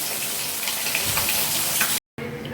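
Potatoes frying in hot oil left over from frying rohu fish in a home kitchen, giving a steady close sizzle and crackle that cuts out briefly near the end.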